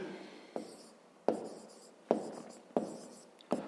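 A pen writing out a maths solution on paper for a fifth-grade exercise, five sharp, quiet stroke-taps at roughly even intervals in a still room, with no talking.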